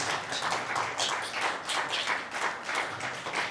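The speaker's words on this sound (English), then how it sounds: "Can you give a big hand clap for the presenters?" An audience at a panel discussion claps for the presenters, giving steady hand-clap applause in a fairly close room with rhythmic swells and no talk over it.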